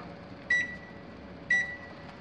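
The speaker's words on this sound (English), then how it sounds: "The microwave works." A running microwave oven hums low and steady in a quiet room, cut twice by short sharp beeps about a second apart.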